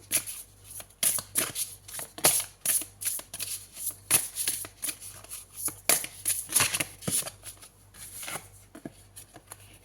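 An oracle card deck being handled as a card is drawn, with repeated crisp flicks and riffling snaps of cards in an irregular rhythm, close and fairly quiet.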